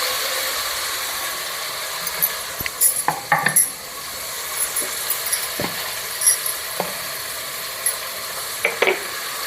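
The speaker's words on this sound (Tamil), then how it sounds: "பாருங்க, இந்த மாதிரி கிளறி விட்டுட்டே இருக்கலாம்." Onions and green chilies stirred in a pan for a soya vegetable biryani: irregular clicks and scrapes of a utensil against metal over a faint hiss, moderately close.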